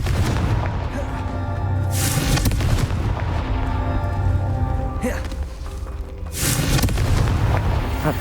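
Confringo blast spell explosions in Hogwarts Legacy: loud, dense booming crackle with two sharp bursts and a steady roaring, rain-like wash between them, no speech over it.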